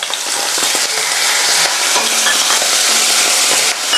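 Mushrooms stir-fry in hot oil in a pan for a vegetarian dish, giving a loud, continuous sizzle and crackle close by, with occasional soft scrapes of stirring and no voices.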